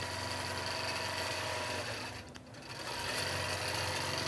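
Sewing machine running steadily while piecing a quilt, a fast even mechanical hum with rhythmic stitching patter close by, pausing briefly midway before resuming.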